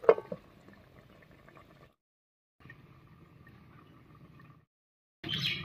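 Gati kochu (taro) curry with garam masala and whole green chillies bubbling gently in a covered pan, a soft steady simmer broken by a brief pause, then a louder burst of bubbling at the end.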